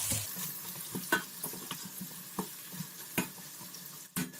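Beans, onions and peppers sizzle softly in a pot while a spoon scrapes and stirs in irregular strokes, with a few sharper clinks against the sides.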